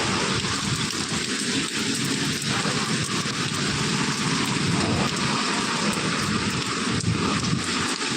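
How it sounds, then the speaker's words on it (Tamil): Heavy rain pours steadily in a hilly area with strong wind, a dense, loud, continuous wash of drops on surfaces with low rumbling underneath, no voices. "செம்ம மழை பாருங்க"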